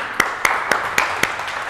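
Scattered hand claps from an audience at a teachers' training session on digital learning technology, five or six sharp claps at a steady rhythm, fairly faint over room noise.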